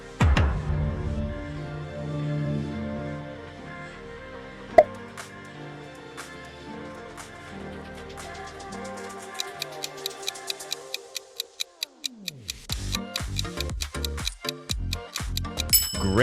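Netflix streaming service logo intro: a sustained, layered electronic tone with a sharp accent, then a deep falling swell, then quick ticking hits and bright chiming pulses that grow louder. No one talks.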